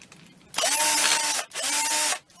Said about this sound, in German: Und dann kommen Schrauben rein.